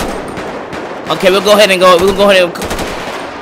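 Police gunfire in GTA 5 rattles quickly through a short burst underneath someone talking, moderately loud against a busy game background.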